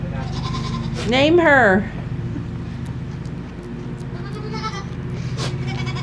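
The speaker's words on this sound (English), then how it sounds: "Name this goat." A pregnant goat lets out one loud, wavering bleat lasting under a second, close to the microphone, with a person speaking briefly afterwards over a low steady background hum.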